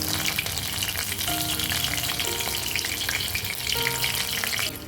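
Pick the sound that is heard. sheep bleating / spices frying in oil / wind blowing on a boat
spices frying in oil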